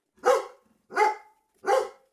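Three evenly spaced dog barks ring out from a street, each one loud and close, with short silent gaps between them and no talking.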